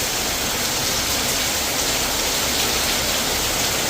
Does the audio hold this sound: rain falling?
yes